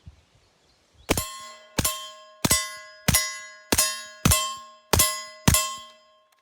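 Eight evenly spaced reports from a suppressed braced pistol firing subsonic rounds, each a sharp, loud crack with a ringing metallic tail, arriving about every 0.6 seconds after a second of quiet.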